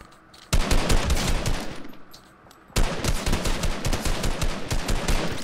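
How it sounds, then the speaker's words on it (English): Rapid automatic gunfire in Fortnite, loud and close, coming in two long sustained bursts of dense repeated shots separated by a quieter stretch. "I'm putting fire over where Justin is to try to get people off of him."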